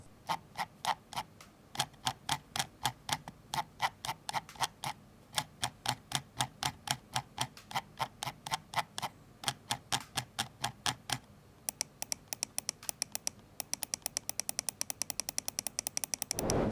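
A Razer Viper V2 Pro mouse scroll wheel ticks steadily notch by notch, slightly louder scrolling up than down, then speeds into a faster run of rapid clicks near the end; close and quiet.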